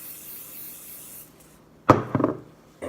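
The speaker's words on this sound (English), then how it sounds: "And then I just spray it really good." An aerosol can of hair spray fires a few short, sharp bursts up close onto styled curls, after a near-silent pause. One strong hiss is followed by quicker, choppier sprays.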